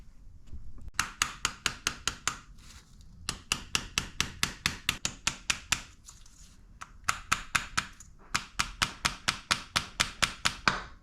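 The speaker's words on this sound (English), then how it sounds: "I just need to find a little hammer to tap it in." A small hammer tapping a new main seal into place on a BMW Z4 E89 during clutch work, sharp metallic taps in quick runs of about a dozen, with short pauses between bursts, close and clear.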